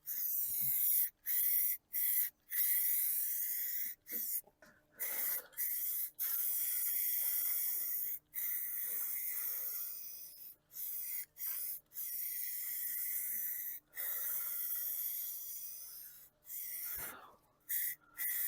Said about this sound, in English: It just sprayed. Or it spit. Probably because I have the can angled down instead of on its side.